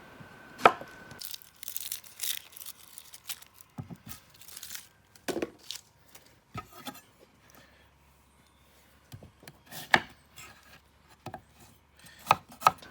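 An onion being cut with a sharp knife on a board: irregular, fairly quiet knife strikes and scrapes spread across several seconds, with some sharper chops standing out against near silence.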